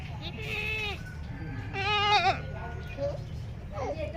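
A goat bleats loudly twice, a long wavering cry then another, with quieter bleats after, over low outdoor background noise.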